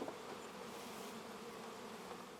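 Honey bees buzz around an opened hive while it is being split, a quiet, continuous drone with a low, even level and no speech.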